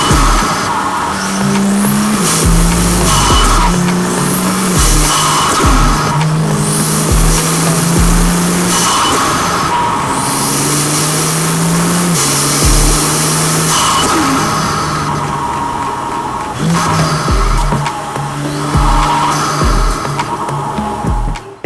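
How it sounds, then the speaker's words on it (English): A BMW F87 M2 engine roars steadily while driving, with repeated rising whooshes of air surging through the Eventuri intake and faint squealing over a constant loud rumble. "you can hear the air like surging through the car"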